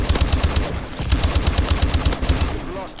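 Ohm light machine gun in Call of Duty Advanced Warfare fires a loud, sustained, rapid string of shots with an even pulsing rhythm that runs nearly unbroken for about three seconds.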